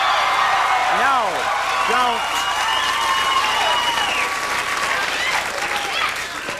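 A late-night talk show studio audience bursts into loud, sustained applause with scattered whoops and cheers, a dense clapping wash that holds steady throughout.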